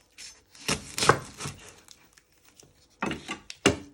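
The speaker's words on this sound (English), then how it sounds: "Then you chop off your other end." A knife chops through an onion on a cutting board while chicken fajitas are being made: a handful of sharp, close taps at irregular intervals, with quiet pauses in between.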